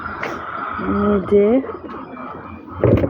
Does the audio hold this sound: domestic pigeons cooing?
yes